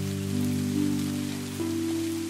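Rain falls in a continuous soft hiss of pattering drops, blended with sustained low musical tones underneath.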